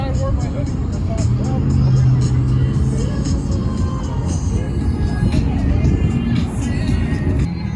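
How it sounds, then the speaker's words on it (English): A Lamborghini, a BMW and a Cadillac pull up at an outdoor car meet, their engines a moderate rumble with a brief passing swell, while people talk throughout. "Cadillac, BMW, and the Lamborghini pulling up"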